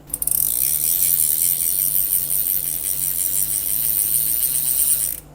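Ryobi Ecusima XI LT fishing reel clicking as its handle turns, a fast continuous stream of fine ratcheting clicks heard close and steady for about five seconds, then stopping abruptly.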